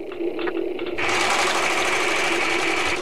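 A vehicle being tuned up in a video game gives a loud, steady mechanical buzzing whir that jumps up in intensity after a second and holds, continuous and close.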